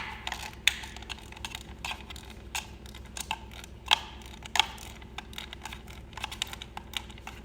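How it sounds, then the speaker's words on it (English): Engine cover bolts on a Kawasaki Z900 being tightened in a cross pattern with a hand ratchet, giving a fast quiet run of clicking ticks with a few sharper metallic clacks, alone and close. "tighten this down a little bit"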